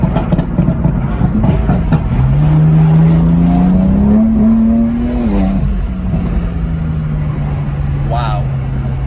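A BMW M4 with a stage 2 tune accelerates hard, its loud engine note rising through the revs before a shift and a steady cruise, heard up close with a voice talking over it.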